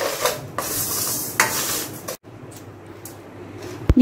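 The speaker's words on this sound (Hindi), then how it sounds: "बस इसको हमने अभी पकाते रहना है और मुसलसल चम्मच चलाते रहना है" A metal spoon scrapes and stirs sugar cooking in a pot for rice kheer, steady close scraping strokes over a faint sizzle, ending with a sharp clink.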